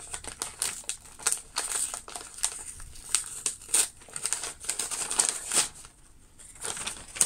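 Cardboard box packaging and its contents being unpacked by hand, with irregular close crinkling, rustling and crumpling of paper and card, no talk.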